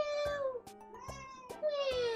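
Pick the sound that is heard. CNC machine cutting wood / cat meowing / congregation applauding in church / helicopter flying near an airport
cat meowing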